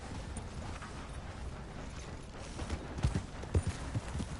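Horse hooves clip-clopping in Red Dead Redemption 2, a faint steady patter that grows into a few louder, closer thuds near the end.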